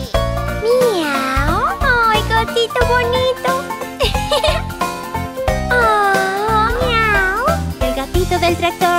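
Sung meows in a Spanish children's farm song about a tractor, repeated in melodic, gliding phrases over a bouncy backing track with jingling accents; a voice imitates a cat rather than a real animal.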